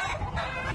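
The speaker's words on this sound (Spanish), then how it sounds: "Tiene que darle comer a los gallos" Roosters cluck steadily in a farmyard over a continuous noisy background, close and fairly loud, with no voices.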